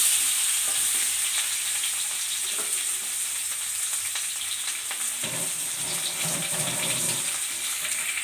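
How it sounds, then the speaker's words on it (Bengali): Boiled potatoes fry lightly in oil for a steady, close hiss and crackle that runs through the whole stretch with no voices, growing slightly busier toward the end. "আমি আলুটা বেশি ভাজবো না, সামান্য একটু ভেজে নিব"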